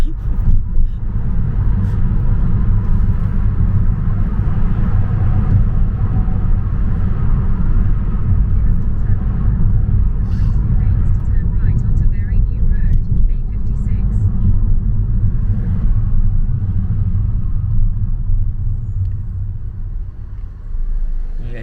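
Car engine and road rumble from inside a moving car on a road, with another older car overtaking; a steady, loud low drone runs throughout under people talking.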